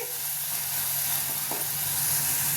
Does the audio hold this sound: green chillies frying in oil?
yes